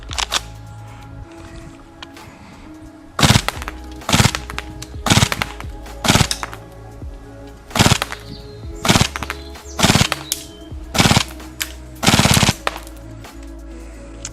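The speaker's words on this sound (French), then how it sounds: "En full ça marche mieux quand on fait des petites rafales." A Vorsk VMP-1X gas blowback airsoft SMG fires about ten short full-auto bursts, each a loud, rapid rattle of shots separated by brief pauses.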